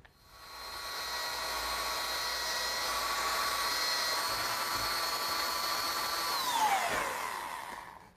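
A power drill drives screws into a wooden tabletop base, giving a close, steady high whine for about six seconds before the motor winds down and stops.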